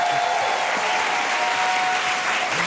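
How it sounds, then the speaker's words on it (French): A television studio audience claps continuously, a dense, steady wash of applause at an even level, with faint voices barely audible beneath it. "Arrêtez d'applaudir."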